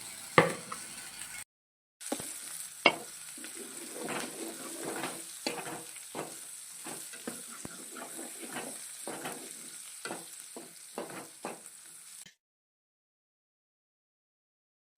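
Chopped onions fry in oil in a pot on the stove for a chicken dish, giving a close, busy sizzle with stirring scrapes and a sharp knock. The sound drops out briefly near the start and stops into silence before the end.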